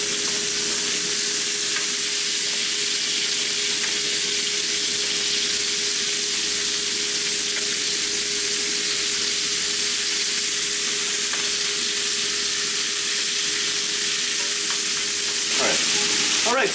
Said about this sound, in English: Make sure they're all seared. I'm going to put them inside the pan.